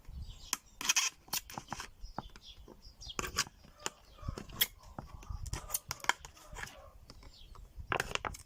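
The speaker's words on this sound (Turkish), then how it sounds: "Ve şişenin altından yine delikler açıyoruz." Holes punched one after another into the bottom of a plastic bottle, giving sharp close crackling pokes and crinkles of thin plastic in an irregular rhythm, quiet and without talk.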